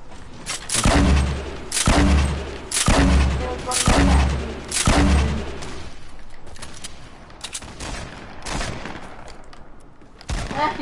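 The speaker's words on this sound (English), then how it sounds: "Is that you shooting?" Loud bursts of gunfire in Fortnite, four heavy rapid volleys in quick succession followed by scattered lighter shots, with no talk over them.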